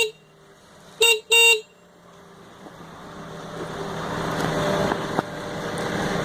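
Two quick, loud blasts from a small replacement horn reinstalled on a scooter, close and bright, followed by rising engine and traffic rumble.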